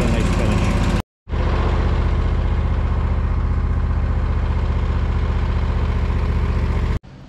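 A lawn mower passes over fall leaves during a cleanup, a loud steady engine drone with a rough churning edge. It cuts out briefly near the start, then runs again without a break.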